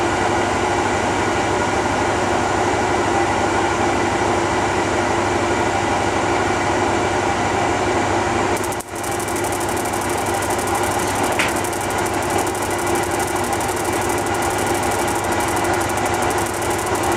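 An arc gap machine running steadily with a loud, continuous mechanical hum and rattling drone, broken by a brief dip partway through before the same noise resumes.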